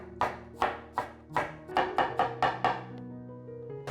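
A knife finely chops strips of apple on a board, crossing the cut in a new direction: close, crisp taps in a steady run of about ten strokes, speeding up toward the end, over soft background music.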